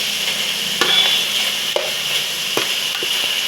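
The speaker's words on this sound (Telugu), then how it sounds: "ఇలా బాగా ఫ్రై అయ్యనివ్వాలి, బాగా వేయించుకోవాలి" Small chicken pieces dry-roasting in a pan for fried rice, a steady close sizzle with occasional scrapes and stirring clicks, no voices.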